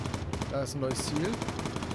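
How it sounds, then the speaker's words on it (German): Heavy, rapid machine-gun fire in the Bomber Crew video game hammers in a steady fast rhythm, with a voice briefly speaking over it. "Oh, harter Beschuss."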